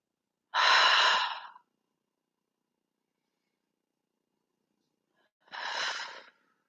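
Two deep, audible breaths during a camel yoga pose, each a broad airy exhale lasting about a second, separated by several seconds of silence, the second slightly softer.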